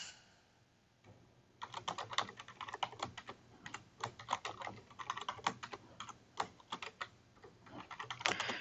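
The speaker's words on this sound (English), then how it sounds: "we're going to go ahead and type in a new password" Rapid keystrokes on a computer keyboard while a new password is entered, a quiet, close run of irregular clicks and taps lasting several seconds after a brief silent start.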